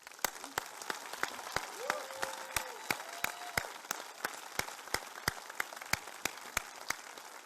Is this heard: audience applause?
yes